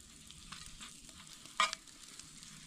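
Pancakes frying in a pan at a remote winter camp: a faint, soft sizzle fills the background, with a brief clatter or scrape about halfway through.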